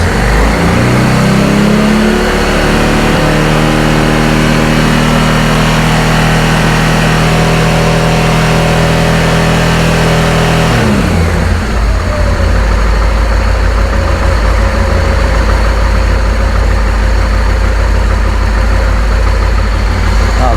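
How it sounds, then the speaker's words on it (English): Honda Transalp XL600V (PD06) motorcycle engine revved up and held at raised revs during a carburettor sync, steady and loud, then dropping back toward idle about halfway through. "let's take the revs up a bit and watch the dials"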